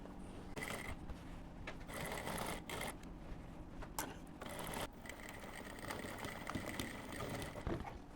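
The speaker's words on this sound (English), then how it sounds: "we're going to be sewing from that's our 4-inch mark all the way to the beginning of your slit" A sewing machine runs in steady stretches while stitching a fitted-waist bubu dress from a 4-inch mark to the start of the slit, with a continuous mechanical whir and brief pauses.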